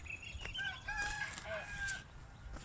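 A rooster crows with drawn-out, wavering calls while hens cluck around it. The calls are faint and distant over a soft outdoor background, with no talk.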